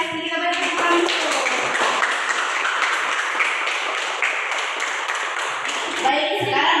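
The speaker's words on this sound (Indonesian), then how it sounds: "kita beri tepuk tangan dulu" A classroom of students claps together in a dense burst of applause lasting several seconds, loud and close, with a few voices mixed in before it tapers off.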